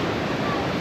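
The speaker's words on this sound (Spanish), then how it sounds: "Vean aquí, es una playita súper pequeña" Continuous wash of small waves breaking on a tiny sandy beach in Uruguay, a steady close hiss of surf with no distinct pauses or voices.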